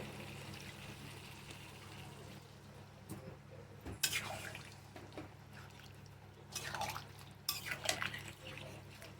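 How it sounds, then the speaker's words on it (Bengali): Water poured into a pot of red mutton curry: a low steady hum broken by a few short splashing, gurgling bursts and light pot clatter, with no talking. "এবার আমি জলটা দিয়ে দিচ্ছি"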